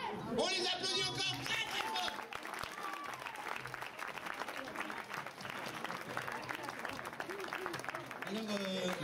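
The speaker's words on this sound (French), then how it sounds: "On les applaudit encore." An audience applauds contestants in a French show, steady clapping filling the room under a loud, excited voice and scattered cheers, with talk resuming at the end.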